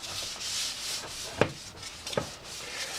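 Primer being sanded by hand on FZR motorcycle parts during a restoration, a soft continuous rubbing with a couple of sharper scrapes and taps, close and fairly quiet.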